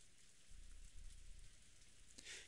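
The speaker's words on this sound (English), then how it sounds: "Here comes the rain." Steady rain from the Umineko visual novel patters as a soft, even hiss for a couple of seconds, quiet and alone without any voices.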